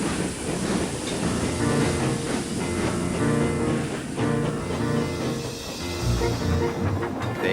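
A video game train pulling out rumbles and clatters along the rails, with steady wheel noise and rhythmic clacking, loud and close throughout.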